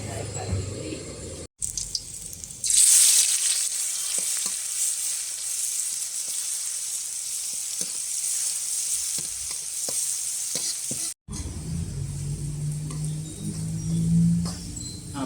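Chili curry paste stir-fried in oil for an old-style mackerel chu chee curry, a steady bright sizzle with scraping stirs running continuously, close and loud, broken by two brief cuts and ending in a lower bubbling.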